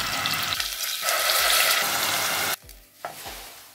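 Garlic and onion paste hits hot oil for a fish curry, a loud sputtering fry with stirring clatter that drops off suddenly, followed by a few softer stirs and pops.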